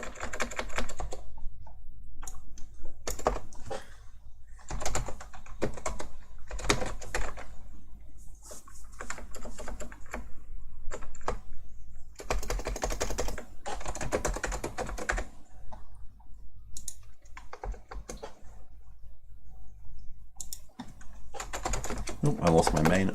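Computer keyboard typing while a simple program is written during a lecture, arriving in irregular bursts of quick clicking keystrokes separated by quiet pauses and close to the microphone.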